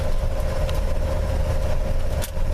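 A 1959 Ford F100 truck engine runs steadily close by, a continuous low rumble with a faint whine above it and no talk.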